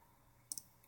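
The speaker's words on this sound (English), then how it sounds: "let's just click" A computer mouse clicks twice in quick succession, sharp and close but quiet, with nothing else around it.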